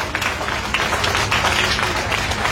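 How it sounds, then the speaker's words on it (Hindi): Sustained applause from an audience at a dedication ceremony for an eleven-storey school building, with dense, steady clapping throughout, close and fairly loud. "तालियों के गड़गड़ाहट से"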